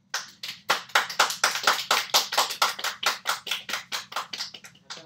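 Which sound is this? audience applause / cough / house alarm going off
audience applause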